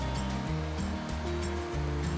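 Creek water flowing at Big Elk in Idaho, a steady, full rushing wash with no breaks, close and fairly loud.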